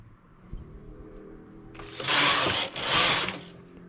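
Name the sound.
knitting machine knitting rows of a flared skirt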